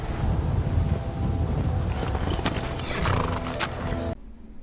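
Horses neigh and hooves clip-clop in the video game Skyrim, heard through steady wind noise. The sound is dense and continuous before it drops away abruptly near the end.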